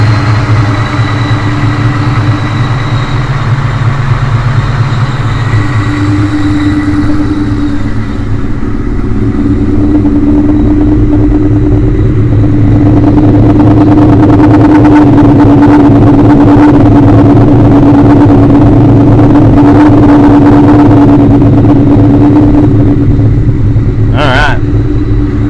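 A 2003 Ford Mustang Cobra with a rebuilt engine idles steadily and loud up close, its low rumble running throughout with a slight rise partway through as the revs lift; a voice talks over it.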